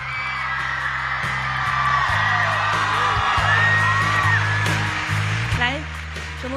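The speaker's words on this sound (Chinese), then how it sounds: "要不要再给你们十秒钟的时间再尖叫一下？" A music awards ceremony audience screams and cheers in a loud, sustained roar of whoops and shrieks over a steady low hum of music, with a voice talking over the crowd.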